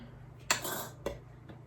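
Lid being unscrewed from a coffee container: a short gritty twisting scrape followed by a sharp click, then a faint tap, close by in a quiet room.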